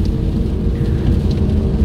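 Rain falls on a moving car near Yeysk, a loud, steady rush of road and rain noise inside the vehicle, with no voices.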